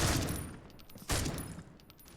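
Gunfire in the mobile shooter Critical Ops during a tournament grand final round: two sharp bursts of shots, the second louder, close and loud with no talking.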